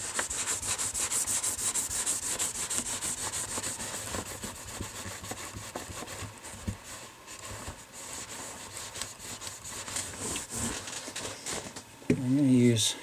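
A cloth wipes excess oil off a 1961 Fender Precision bass neck, making a steady soft rubbing and swishing close by for about twelve seconds, with a short knock near the end.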